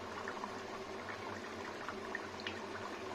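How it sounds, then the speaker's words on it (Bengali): Ridge gourd vegetarian curry with fritters bubbling at a steady simmer in a pot, a soft continuous watery boil with faint pops, with low hum beneath and no voices. "ফুটে যাক, দেখুন কত সুন্দর ফুটছে।"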